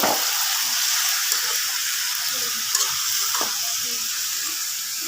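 Vegetables sautéing in a hot pan with salt, a steady broad sizzle and hiss running the whole time, with occasional faint stirring clinks near the middle.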